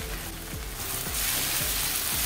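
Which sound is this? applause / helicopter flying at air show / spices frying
spices frying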